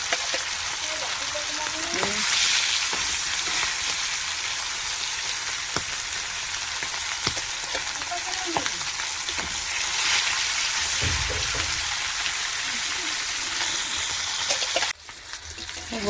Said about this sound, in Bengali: তেলটা গরম হয়ে গেছে, মাছ তুলে দিচ্ছি।